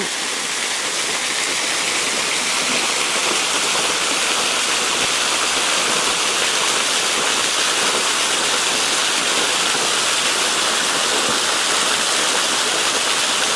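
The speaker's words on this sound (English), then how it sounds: "we almost found the waterfall." Loud, continuous rushing water roars without pause, the dense broadband hiss of a nearby waterfall in Switzerland with no voices.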